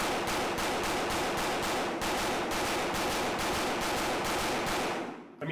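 Stealth Arms Platypus pistol fired at 7 yards in a rapid, evenly spaced string of loud, close shots that runs almost nonstop, then cuts off into near silence at the end.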